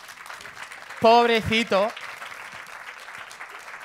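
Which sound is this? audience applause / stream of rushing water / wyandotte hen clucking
audience applause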